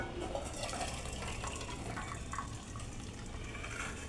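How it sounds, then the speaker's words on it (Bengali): Boiled ingredients being poured from a pan into a container, a faint continuous liquid pour and splash lasting several seconds with no talk. "সিদ্ধটা হয়ে গেছে, এবারে আমি একটা পাত্রে ঢেলে নিচ্ছি।"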